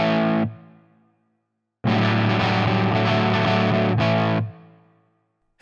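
Electric guitar through a Tonex plugin modeling a Marshall JMP 50 watt amp plays crunchy, driven chord stabs: a short hit, a pause, then a long sustained chord and a final hit, loud and alone.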